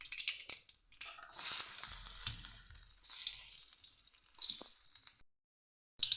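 Spices tempering in hot oil for an Angamaly-style mango curry (mango mappas) give a loud, close, steady crackling sizzle with bursts of spitting that runs for about five seconds, stops abruptly, then briefly resumes, with no voices.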